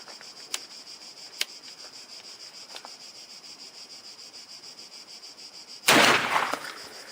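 A shotgun fires a single slug round outdoors: one sharp, loud blast near the end of a quiet stretch, followed by a short decaying rumble, with a couple of faint clicks from handling before it.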